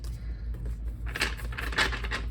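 Cards being shuffled in a couple of quick papery riffles, close by, over a low steady hum.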